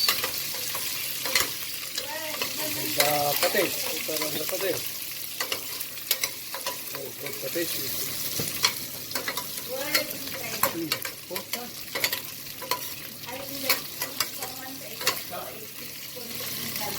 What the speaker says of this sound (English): We're gonna add it to our sauteed garlic, peppercorn, brown onion.